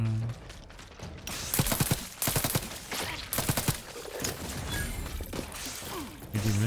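Rapid bursts of gunfire from the video game Outer Worlds 2, loud clusters of sharp shots with pauses between them, mixed with game effects and whooshes.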